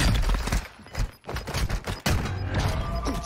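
Rapid pistol fire from akimbo pistols in Warzone 2.0, dense overlapping shots and impacts crackling close and loud for the whole stretch with almost no pause.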